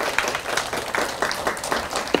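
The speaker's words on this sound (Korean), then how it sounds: "박수 한번." An audience at a lecture for youth counselors applauds a speaker, a short burst of dense, fairly loud clapping with individual claps standing out.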